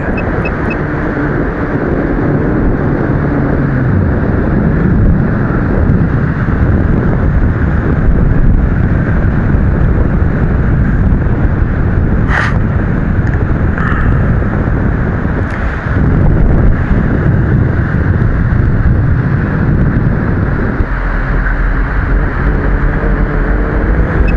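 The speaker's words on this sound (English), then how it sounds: "So the wind is letting up." Steady, loud wind roars across the microphone while an RC glider is flown on a slope, a continuous rushing blast that fills the whole stretch, with no talk.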